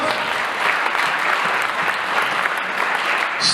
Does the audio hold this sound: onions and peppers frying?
no